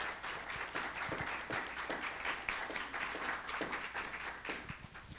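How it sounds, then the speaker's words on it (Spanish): An audience at a youth civil society panel on violence applauds the panel speakers, a dense, even wash of many hands clapping for several seconds at a modest, distant level. "les pido un fuerte aplauso para nuestros ponentes de esta mesa"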